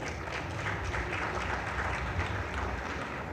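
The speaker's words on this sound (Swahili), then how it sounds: "Tuwapigie makofi." An audience breaks into applause, a dense, even wash of clapping that holds steady at a loud level for the whole stretch with no voices over it.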